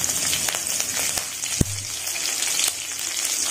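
Cumin seeds and green chillies fry in two spoons of hot oil for aloo gobi, a close, continuous crackling sizzle with scattered pops and one sharp knock partway through.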